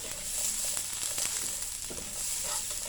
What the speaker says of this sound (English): Just saute it for a few minutes.